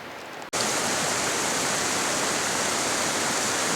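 Ivan Thomas Creek, a mountain creek in Kananaskis near Fisher Peak, rushing steadily at its meeting with another creek: a dense, loud, continuous roar of flowing water that begins abruptly after a brief quieter moment and holds without break.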